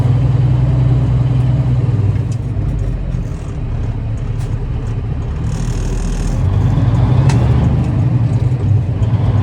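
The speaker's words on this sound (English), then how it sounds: "I figured the truck's out, it's warmed up. Why not take it for a little drive?" An old semi truck built as a Smokey and the Bandit tribute rig runs while driving, with a loud, steady low engine drone and some mechanical rattles throughout, and no talk.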